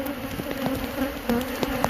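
Agitated honeybees at an opened hive make a steady, close, high droning buzz, with individual bees zipping past now and then and no voices.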